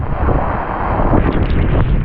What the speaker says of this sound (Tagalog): Hangin oh. Papalig yung payong natin oh.